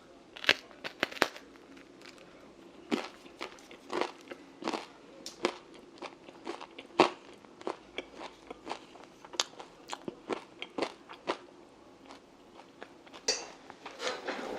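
Someone bites into and chews crisp Di Fara pizza in New York, with a quiet, close run of crunchy bites and chewing crackles that repeat irregularly throughout.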